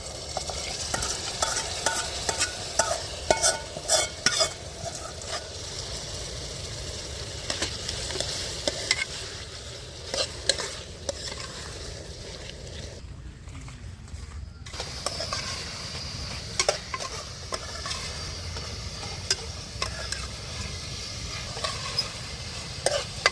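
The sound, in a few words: stirring boiled chicken with ginger-garlic paste in a pan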